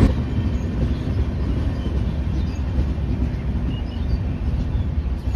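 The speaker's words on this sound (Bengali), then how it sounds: "এই মুহূর্তে আমাদের ট্রেন ঢুকছে ঝাড়খণ্ডের শেষ স্টপেজে, সেটার নাম হচ্ছে চাকুলিয়া।" 12814 Steel Express train pulling into Chakulia station in Jharkhand, a steady loud rumble of wheels and carriages from on board, continuous with no clear breaks and no voices.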